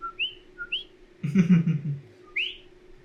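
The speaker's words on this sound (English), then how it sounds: "Palm trees and the coqui. This little tree frog." A coqui tree frog gives its sharp two-note rising call several times, nearby and clear, with a short burst of human voice in between.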